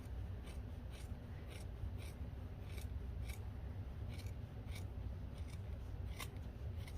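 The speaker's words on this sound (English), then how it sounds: "you can go ahead and trim this seam" Scissors trimming a sewn fabric seam while sewing a pullover hoodie, a steady series of crisp snips, close and clear, with no talking.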